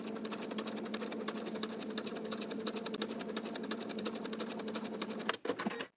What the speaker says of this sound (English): Then we'll understitch, sewing the pocket to the seam allowance underneath with about 1/8 inch seam allowance